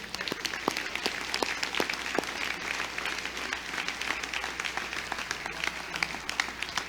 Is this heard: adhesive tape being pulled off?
no